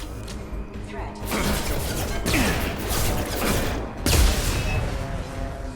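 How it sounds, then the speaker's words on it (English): Grenade launcher blasts from Mass Effect 2 combat, a dense run of explosive bangs and crashes with heavy low-end thuds, one especially strong hit near the end, over continuous battle din. "I've now got a grenade launcher."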